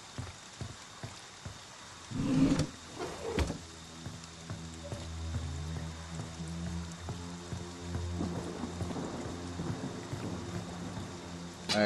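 Rain patters steadily in the Friday the 13th: The Game world while a deep rumble of thunder rolls through, with a sharp crack early on and lower rolling tones trailing after.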